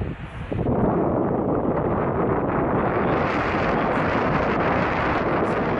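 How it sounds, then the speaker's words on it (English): Strong wind blows outdoors at night during a Milky Way astrophotography session in the UK, producing a loud, continuous broadband roar and buffeting against the microphone with no let-up. "It's getting breezy out there now."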